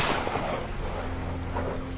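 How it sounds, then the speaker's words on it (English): Guns fired as a welcome salute at the end of a parley give a dense, continuous rumble of muffled blasts at a distance, loud and booming throughout with no voices. "Why are they firing?"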